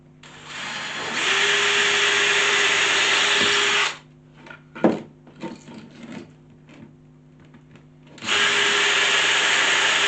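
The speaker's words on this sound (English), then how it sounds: "Now we can turn it over and put a countersink in." A power drill whirs steadily for a few seconds while cutting a countersink into wood, stops amid a few bumps and knocks, then starts up again, loud and close.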